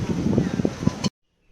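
Wind gusting across a microphone at Gorai Beach near Mumbai, a rough, loud rumble with a voice talking over it, then cutting off abruptly into near silence.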